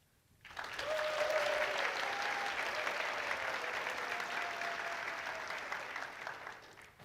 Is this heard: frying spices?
no